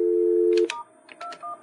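Telephone keypad tones as *21 is dialed on a phone: a steady tone cuts off, then a few short clipped beeps follow in quick succession, clear and near with no talking.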